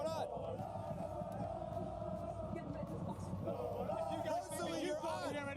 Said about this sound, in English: Gentlemates fans who are losing their minds here as they try and will their crowd on to victory